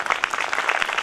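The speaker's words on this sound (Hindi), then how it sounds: "प्रभु के लिए ताली मारे," Congregation clapping for the Lord at a worship gathering, a dense, steady burst of many hands applauding together, fairly close and continuous for about a second.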